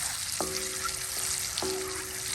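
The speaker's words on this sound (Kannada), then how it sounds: "ಮೊಟ್ಟೆಯನ್ನು ಫ್ರೈ ಮಾಡುವಾಗ" An egg frying in a pan with a steady sizzle throughout, and a couple of short stirring scrapes against the metal.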